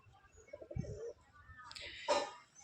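Rajshahi Giribaj pigeons, colour-matched tumbling birds, give a brief low cooing murmur near the start, followed by a burst of brighter rustling and fluttering.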